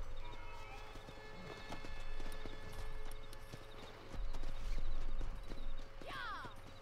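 Horse hooves clip-clopping in the video game Red Dead Redemption, a run of distinct, rhythmic hoof strikes close by, with a brief whinny near the end.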